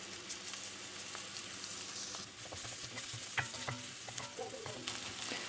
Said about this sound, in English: let's leave this to saute